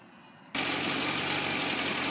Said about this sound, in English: So we'll start the engine up here and see how things look.